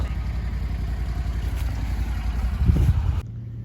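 A lawn mower engine drones steadily and fairly loud for a few seconds in an outdoor yard, with wind buffeting the microphone, then cuts off abruptly near the end leaving a low hum.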